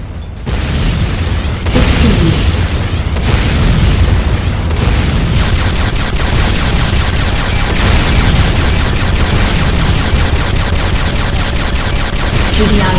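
A massive enemy Weapons Factory explosion in the video game Renegade: a loud, continuous roaring blast with crackling debris and heavy low rumble sustained through the whole stretch.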